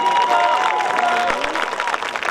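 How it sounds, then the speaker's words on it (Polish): Spectators at an American football game between the Lowlanders Białystok and Husaria Szczecin clap and cheer for the home team in a busy, crowded burst, mixed with chatter and shouts. "Wielkie brawa dla gospodarzy!"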